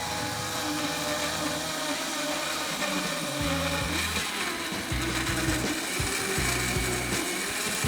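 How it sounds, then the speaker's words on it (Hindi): A kitchen blender whirs steadily as it purées peaches with honey, the loud motor drone shifting in pitch with pulsing low chugs as the contents churn. "खूब अच्छी तरीके से ब्लेंड करना है जब तक ये ब्लेंड हो रहा है"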